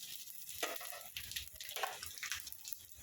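Whole cloves, cinnamon and cardamom fry in hot oil in a pan while making coconut rice, giving a steady close sizzle with soft crackles and brief surges, with no voices.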